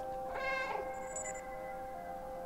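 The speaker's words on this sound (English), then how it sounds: "I'm gonna hide in this box and meow." A cat meows in the video game Stray, giving one drawn-out, close meow over a faint steady game hum, followed by a brief high tone.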